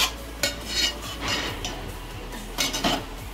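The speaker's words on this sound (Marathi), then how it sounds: "तर थोडी ढवळून घ्यायची आहे पूर्ण अशी" A metal spoon scrapes and clinks against a cooking pot while stirring thick chicken gravy, giving a few distinct close knocks over a steady low background hum.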